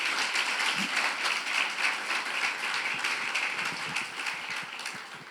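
A church congregation applauds steadily during a sermon, a broad, even wash of clapping that holds throughout and fades slightly at the end.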